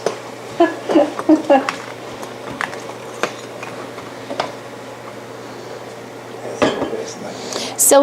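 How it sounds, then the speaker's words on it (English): Braised red cabbage stirred in a pot, with a spoon scraping and clinking against the sides in an uneven run of knocks, louder near the start and again toward the end, under a low background hum. "it's really important to stir the cabbage quite a bit"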